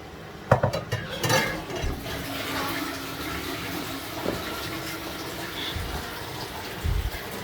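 A pot of ogbolor soup is covered to cook, with a sharp metallic clank of the lid and clatter of cookware, followed by soft bubbling and kitchen noise.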